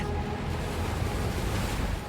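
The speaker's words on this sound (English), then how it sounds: "The waves will pull me under." Ocean waves in the video game Hellblade 2 roar steadily and loudly, a dense, continuous surf wash with some wind, heard alone without any voices.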